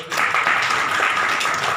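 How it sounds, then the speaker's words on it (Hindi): An audience at a human rights gathering breaks into applause, a dense, steady clapping that starts abruptly and holds at an even level for the whole stretch. "तो एक बार ताली हो जाएगी सबका"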